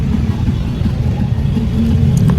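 Car traffic rumbles nearby as a low, continuous engine drone with slight swells, no voices over it.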